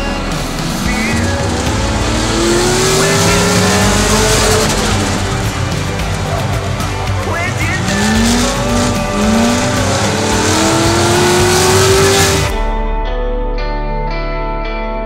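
A modified car lapping a race track, engine loud and close with rising and falling revs as it accelerates and shifts, tires squealing through corners before the sound cuts off near the end.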